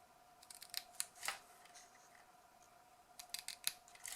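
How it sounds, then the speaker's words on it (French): Scissors snip a small triangle out of paper for a pop-up card: a few quiet, separate crisp cuts spread across a few seconds, close by in a hushed room with no talking. "on va découper, alors à peu près au milieu"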